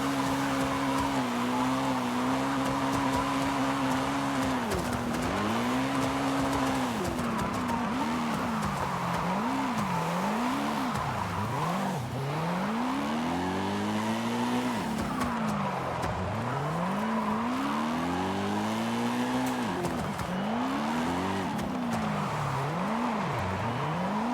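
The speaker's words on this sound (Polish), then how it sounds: "zakochany jestem w dźwięku tej BMW" A BMW race car engine revs loudly and continuously, pitch sweeping up and down through gear changes as it laps a track.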